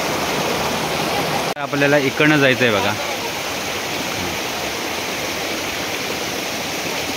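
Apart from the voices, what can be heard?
Sonavade village waterfall water flowing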